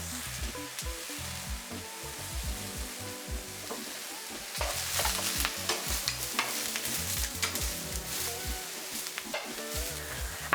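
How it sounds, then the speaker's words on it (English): Steady crackling sizzle of aubergine slices frying in a hot pan, with occasional stirring and scraping noises over the hiss. "So I'm going to put one in. It's sizzling."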